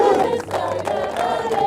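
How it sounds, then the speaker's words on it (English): Crowd of French fans backing Toulouse and German supporters chanting at a sports match, a dense, loud mass of voices rising and falling in a sustained roar with no single speaker standing out. "the crowd starts chanting, the French crowd supporting Toulouse"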